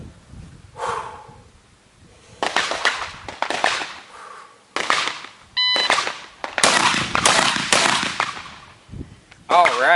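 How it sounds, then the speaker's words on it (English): Shotgun blasts fired at targets ten yards away on a shooting range, a series of loud, sharp reports spaced irregularly through the stretch, some closely grouped, with a few beeps and metallic clatter between shots. "Shotgun. 1 shot per target at 10 yards."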